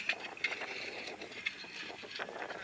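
Strong wind gusting across an outdoor microphone in San Jose, a steady broadband roar with buffeting bursts and rattling, no talking.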